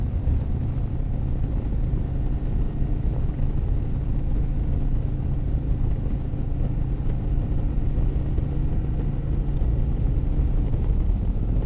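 A 2024 Harley-Davidson Fat Boy is ridden on the road, its engine giving a steady, loud low rumble mixed with wind noise for the whole stretch, with no talking.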